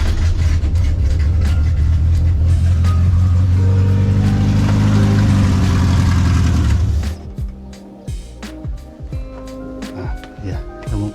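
A Renault R8 fitted with a swapped 1397cc C2J engine cranks and runs with a loud, close, steady rumble, then cuts out into quiet clicks and clunks.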